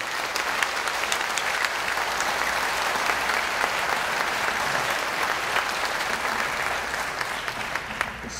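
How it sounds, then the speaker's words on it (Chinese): Assembly members at an association's annual general meeting applaud together, a steady, sustained wash of clapping from a large seated group that holds for about eight seconds before easing slightly at the end. "我们请各位议员可以用拍手来表达我们要热烈来回应"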